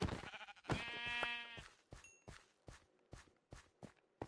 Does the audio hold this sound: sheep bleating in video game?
yes